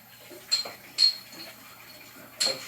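A bowl is washed out with a few close, bright clinks and scrapes of utensils against it, spaced irregularly over quiet background.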